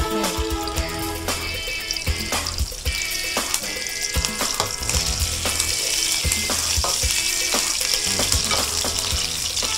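Curry leaves and green chillies frying in hot oil for chicken curry, a loud crackling, spitting sizzle that persists throughout with sharp pops and occasional clinks, no talking.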